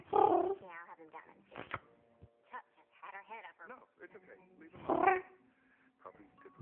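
A person speaks softly in a cat-like manner, imitating a cat with drawn-out vocal sounds and two louder bursts set apart by pauses, heard close and fairly quiet.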